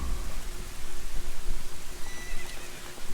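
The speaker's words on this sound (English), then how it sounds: "It's a white horse." A white horse neighs in The Legend of Zelda: Ocarina of Time, a clear whinny set against a soft, rain-like ambient wash with light hoof clops.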